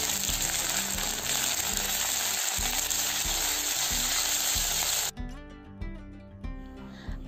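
Ginger and garlic paste sizzles steadily in hot oil and is stirred. A spoon scrapes and knocks against the pan at a regular pace, and the hiss thins out near the end.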